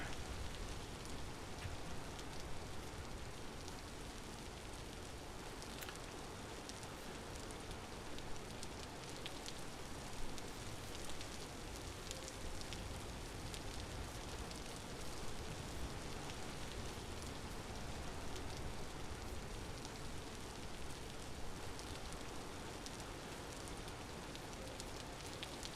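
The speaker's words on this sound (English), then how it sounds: "Rain is not helping." Steady rain falls in the survival video game Vintage Story, a dense, even patter that runs unbroken and alone throughout.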